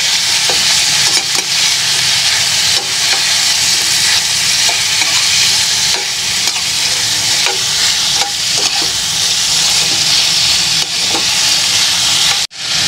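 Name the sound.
sautéing field frog meat in a pan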